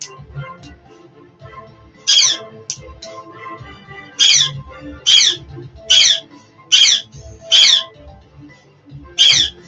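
A pet bird named Chupa screams in loud, harsh bursts, about seven squawks spaced roughly a second apart after a quieter start, close by with a faint background hum.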